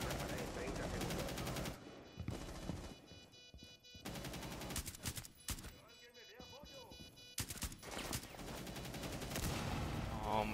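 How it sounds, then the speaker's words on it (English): Loud, close gunfire from a Rainbow Six Siege match: rapid automatic bursts and single shots come in clusters with brief lulls between them, and a voice is heard faintly in the mix. "How are they still shooting through the smoke, dude?"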